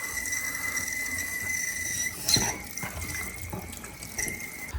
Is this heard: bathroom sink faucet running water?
yes